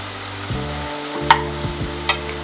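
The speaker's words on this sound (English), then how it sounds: "Now I'm going to add our ginger, the finely chopped ginger. Just give it a quick mix." Finely chopped ginger goes into a hot frying pan for keto upma and is stirred, giving a close, steady sizzle with a couple of sharp utensil clicks against the pan.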